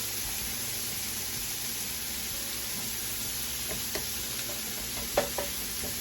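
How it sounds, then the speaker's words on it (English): Onions frying in a pan on a stovetop for Philly steak sandwiches, a steady close sizzle with a few faint clinks and stirring taps, no talking. "Let the onions cook until they get caramelized."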